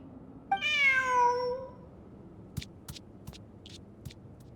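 A single cat meows in the Genshin Impact video game: one clear, drawn-out meow rising then falling, followed by a few faint ticking clicks, with no talking.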